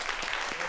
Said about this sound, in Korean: 자, 두 분을 박수로 모시겠습니다.